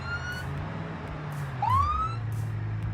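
Police car sirens wail in a car simulator video game, a rising electronic siren sweep cutting in midway over a low engine drone, fairly close and with no talking.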